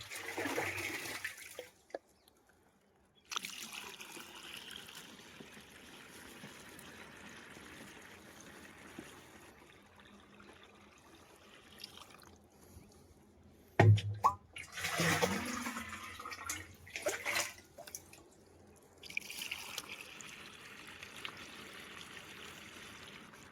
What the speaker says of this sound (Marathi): नंतर आपलं पंप व्यवस्थित भरून घ्यायचं आहे.